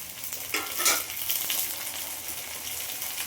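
Onion and chopped corn frying in hot oil for an Uttar Karnataka-style corn palya, a dense, close hiss and crackle with a few louder stirring bursts early on, steady throughout and with no voices.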